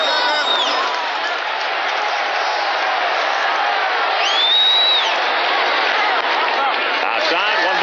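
Stadium crowd noise at a Cardinals–Braves NLCS Game 3 baseball game in Atlanta, a steady broad roar of many voices with a whistle rising partway through, continuous from start to finish.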